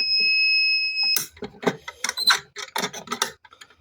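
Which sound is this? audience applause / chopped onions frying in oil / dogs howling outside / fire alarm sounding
fire alarm sounding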